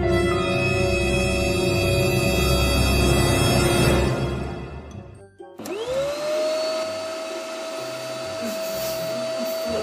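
An electric household vacuum cleaner runs with a loud steady whine and hum, cuts out briefly, then starts up again with a rising motor pitch that settles into a constant drone, with no talk over it.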